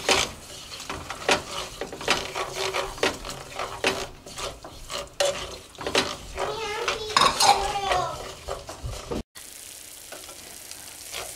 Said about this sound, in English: Put in and stir right away.